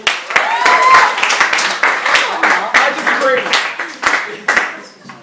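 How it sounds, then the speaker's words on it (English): An audience applauds a group of student debaters at a school GM debate, with scattered, uneven clapping and voices talking and calling out over it. "Let's give them a massive round of applause, people."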